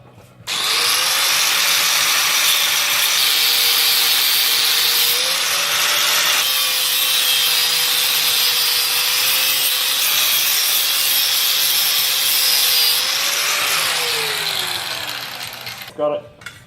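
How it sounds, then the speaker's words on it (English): A power tool cuts metal hard up against a weld in one long, loud, continuous whine that holds an even pitch with slight wavers and then winds down at the end. "You've got to cut hard up against this weld."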